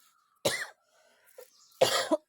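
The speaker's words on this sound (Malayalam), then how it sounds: "അതിൻ്റെ ആ സ്മെല്ല് വരുമ്പോഴത്തേക്ക് നമുക്ക് ചുമ വരും" Two sharp, close coughs about a second and a half apart, with near silence between them, brought on by pesticide spray on eggplant plants.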